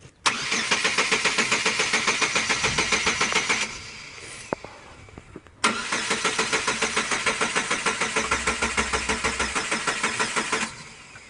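2000 Chevy Cavalier engine cranking without catching, two long runs of rhythmic starter chugging, loud and close, with a short pause of clicks between them.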